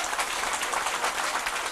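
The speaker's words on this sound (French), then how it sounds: "Applaudissez le Seigneur." A congregation at a live French church service applauds the Lord with steady, dense clapping that holds at an even level throughout, with no voices over it.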